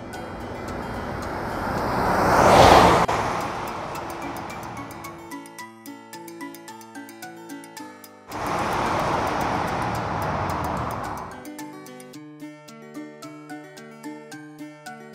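A Star Wars toy car drives past in two loud whooshing passes, each swelling and fading, with a plinking melody playing between and after them.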